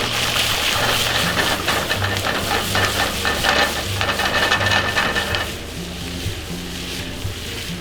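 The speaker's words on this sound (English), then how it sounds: "And this is called sauteing." Loud, steady sizzling and frying from vegetables sautéing in a hot pan for chicken fajitas, with scraping and stirring throughout; the hiss eases slightly near the end.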